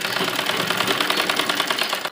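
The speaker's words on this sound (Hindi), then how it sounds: "इलास्टिक को आगे करते हुए हम सिलाई लगाएंगे इलास्टिक में।" A sewing machine stitching elastic into palazzo fabric, a loud, fast, even mechanical rattle running continuously up close before stopping abruptly.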